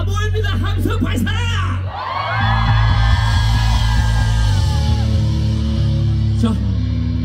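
A large crowd roars and shouts at the Peak Festival 2024 outdoor concert, a loud sustained mass cheer that swells after a brief dip and holds steady, with whoops rising over the din.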